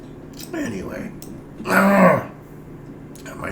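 A man clears his throat once, a short rough rasp standing out between quieter stretches of room noise.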